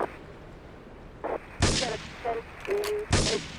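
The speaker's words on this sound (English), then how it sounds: "Investigate reported gunfire and explosions" A few sharp, loud gunshots in Grand Theft Auto III Definitive Edition crack at irregular intervals over a quiet background, with some brief whistling tones between them.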